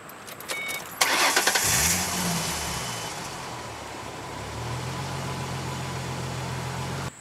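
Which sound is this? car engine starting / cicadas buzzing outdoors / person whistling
car engine starting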